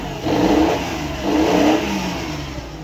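A car engine revs hard under load as the car climbs a slope, with two strong surges of rising, straining engine roar close by and no voices.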